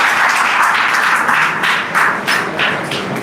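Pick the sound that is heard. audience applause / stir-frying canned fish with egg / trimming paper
audience applause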